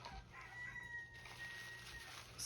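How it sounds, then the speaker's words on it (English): Chickens cluck and a rooster crows faintly in the distance, a thin drawn-out call over quiet background hiss with no voices. "Excuse the chickens."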